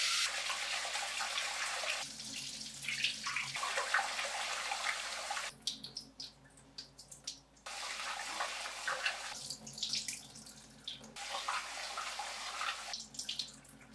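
Tap water runs hard into a bowl while sushi rice is rinsed. It comes in long gushing bursts broken by quieter pauses of swirling and draining water, close and loud, with no talk.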